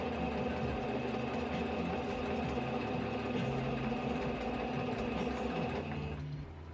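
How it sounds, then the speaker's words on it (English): A sewing machine running a straight hem stitch on a dress, a continuous loud mechanical whir and hum holding steady, then easing off at the very end. "sew a straight stitch to hem"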